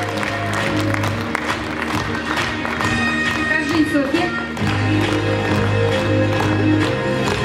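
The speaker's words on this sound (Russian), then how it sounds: "Давайте под ваши бурные аплодисменты" Lively applause fills the hall at a children's contest awards ceremony, steady dense clapping with a low hum underneath, while a voice speaks briefly over it.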